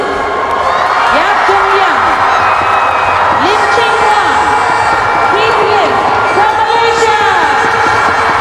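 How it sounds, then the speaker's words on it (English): Spectators at the SEA Games 2017 men's 4x200m freestyle relay final cheer and whoop in a loud, sustained roar, with a commentator talking over the crowd throughout. "Now hear the crowd and the reception for this team."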